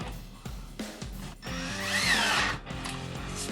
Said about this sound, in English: Counterboring our hole.